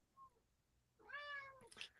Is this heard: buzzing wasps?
no